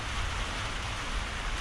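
Steady rain pounds a wooden front porch on a very wet day in Ohio, a dense, even hiss of drops with a low rumble beneath, close and continuous with no voices.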